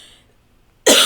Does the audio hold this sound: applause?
no